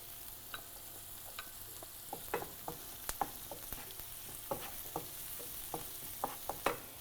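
Garlic and sun-dried tomatoes sautéing in a pan, a soft, fairly quiet sizzle broken by irregular light clicks and scrapes of a utensil stirring, with no talking.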